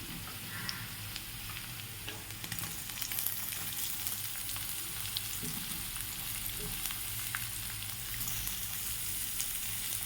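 Chopped onions and garlic fry in oil in a pan, giving a steady close hiss and crackle with faint scraping that holds evenly from start to end.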